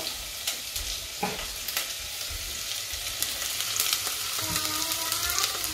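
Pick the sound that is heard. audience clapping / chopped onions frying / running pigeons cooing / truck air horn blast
chopped onions frying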